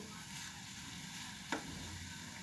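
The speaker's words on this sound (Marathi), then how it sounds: "आता तुपावर आपण एक पाच ते दहा मिनटाला चांगलं शिजू" Carrots frying in ghee in a pan for carrot halwa, a steady soft sizzle throughout with one brief stir or scrape partway through, no voices.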